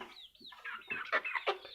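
A fighter chicken on a farm clucks in a quick run of short, sharp, close calls, growing busier and louder toward the end, with no talking.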